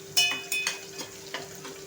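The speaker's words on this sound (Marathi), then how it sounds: "कांदा छान असा फ्राय करून घ्यायचा आहे।" Onion frying in a pan for a Maharashtrian matki usal, with soft sizzling and a few short stirring scrapes over a faint steady hum, close and moderately quiet, with no talking.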